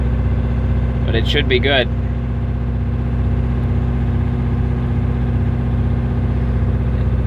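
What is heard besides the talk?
Detroit 8V92 diesel engine idling in Peterbilt 359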